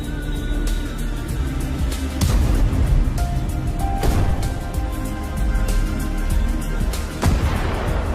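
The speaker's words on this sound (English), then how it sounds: "The tank spares no ammunition, delivering strike after strike" A Ukrainian tank fires its cannon at Russian fortifications in a tree line. Several heavy booms land at intervals over a steady, loud rumble of engine and wind.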